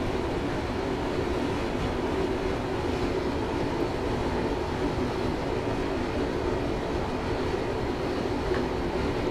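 A Class 321 electric multiple unit in Train Simulator 2017 runs steadily on the Harwich Town to Manningtree line, giving a continuous rumbling drone with faint rail clatter throughout, close and even in level, with no talking.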